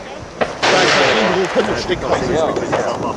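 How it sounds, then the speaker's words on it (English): Gunfire at the Bisley shooting range, with a sharp report followed by a broad rumbling echo across open ground. Voices talk over and after the shot. "There'll be another shot now."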